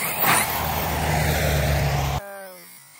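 An RC car drifting across wet grass gives a loud, whirring motor drone with a rushing hiss that runs steadily for about two seconds, then cuts off abruptly and leaves only faint residual sound.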